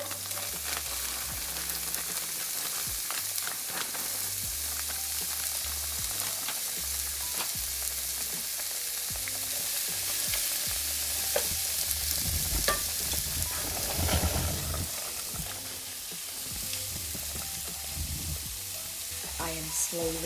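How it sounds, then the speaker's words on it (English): Cauliflower rice sautés in a little avocado oil in a skillet, giving a steady, close sizzle and crackle with occasional stirring scrapes throughout. "In a separate skillet, I'm going to start toasting my cauliflower rice."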